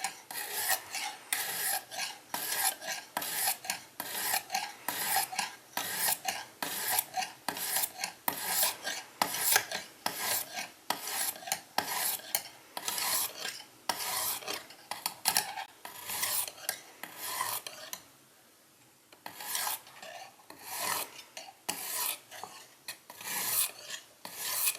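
A knife blade being sharpened on a Lansky Deluxe sharpening system: steady, close rasping strokes in a regular back-and-forth rhythm, with a short pause near the end before the strokes resume.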